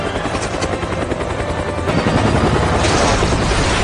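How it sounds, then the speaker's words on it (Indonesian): A helicopter in an action film scene, where escaped prisoners seize the aircraft for a counterattack, makes a loud continuous rotor roar with dense rumbling and bursts of noise that swell near the end. "mengambil alih helikopter tersebut dan menggunakannya buat melakukan serangan balik"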